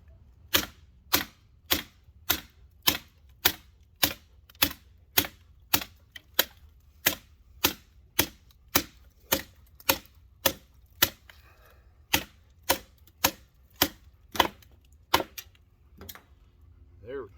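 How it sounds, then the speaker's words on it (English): A Work Tuff Gear Hemlock Ares production-model knife chops through a piece of bamboo in a steady run of about twenty-five sharp, evenly spaced strikes, loud and close, with a brief pause near the end. "That is probably the fastest I've cut through this piece of bamboo."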